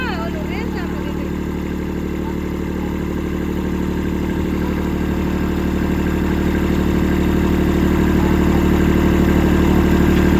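A heavy tractor engine on a farm chugs steadily at close range, its deep low rumble holding even and loud throughout, growing slightly louder toward the end.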